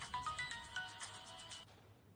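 A faint electronic ringtone plays a quick rising melody of short tones, repeating briefly before stopping abruptly.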